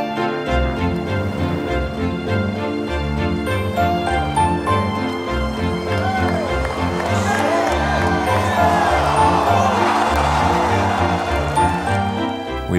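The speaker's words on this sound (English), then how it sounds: "The home crowds really cheering for the Americans" A home golf crowd at Medinah cheers for the Americans, the roar swelling and peaking in the later half over steady tonal background music.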